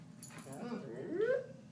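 A dog in a house whimpers and whines in a rising, drawn-out whine lasting over a second, close and fairly soft beneath low background noise.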